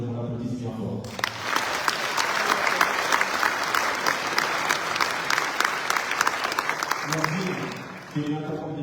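Audience applause at a 2024 congress on disability, sport and work held at UNESCO in Paris, a loud sustained burst of clapping from a large crowd starting abruptly and fading near the end, with talk before and after.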